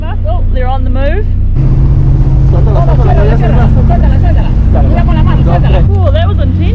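Sailing boat engines run at full power near the Panama Canal with a tug nearby, a loud steady low drone with a shift in pitch partway through, while several people talk over it.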